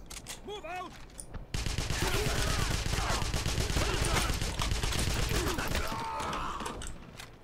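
Sustained crossfire of gunfire in the video game Wolfenstein, a loud dense volley of rapid shots bursting in after a quieter opening and continuing steadily to the end.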